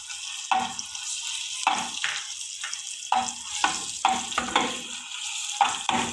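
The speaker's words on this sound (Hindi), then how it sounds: "घी गरम हो चुका है, ये मैंने देसी घी ली है। अब मैं इसके अंदर अदरक शामिल कर रही हूँ।" Ginger frying in hot desi ghee, a bright sizzle that pulses in repeated bursts as the pieces are stirred, close and fairly loud with no talking.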